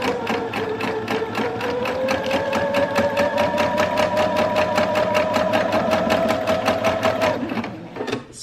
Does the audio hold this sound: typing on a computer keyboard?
no